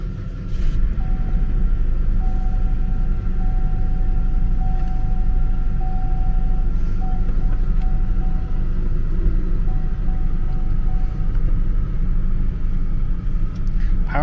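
A used Cadillac bought at auction, with a busted screen, idles steadily after starting: a continuous low engine rumble with a faint whine, close and unbroken throughout.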